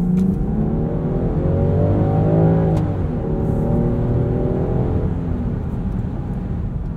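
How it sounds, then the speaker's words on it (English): Steady broadband cabin noise inside a 2020 Land Rover Defender 110 while driving, with wind rush from the boxy body mixed with engine and road rumble, continuous and fairly loud with no talk. "you can probably hear there's a little bit of wind noise, and that's just due to the shape of this thing"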